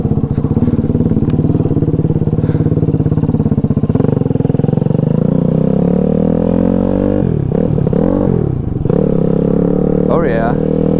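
A Grom clone motorcycle fitted with a Daytona Anima 190 four-valve engine revving loud and close as it rides through the gears, with pitch climbing and dropping at each shift.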